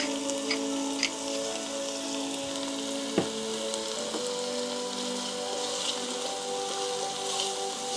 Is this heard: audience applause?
no